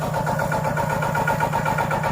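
A tractor engine runs steadily at a mid-pitched idle, loud and close, with an even, unbroken throb and no talking.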